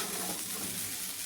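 Upma made with boiled rice, with curry leaves and oil, being stirred in a pan: a steady, close sizzle with soft stirring scrapes that runs without a break through a very short stretch, and no voices.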